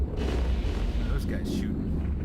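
Ships exchanging weapons fire in the space game EVE Online during a large battle: a low, booming rumble of distant cannon and artillery-like impacts, with a couple of brief sharper cracks, muffled and continuous.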